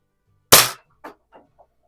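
A single sharp paintball shot from a 1938 conversion marker, a loud close crack followed by a few fainter decaying echoes.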